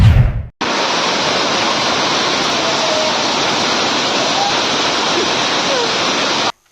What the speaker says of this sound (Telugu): గీడున్న రైల్వే స్టేషన్ లేదో వాటర్ ఫౌంటైన్లు ఏర్పాటు చేసినట్టే నీళ్ళు ఎట్లా గారుతున్నాయో